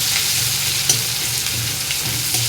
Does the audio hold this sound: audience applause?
no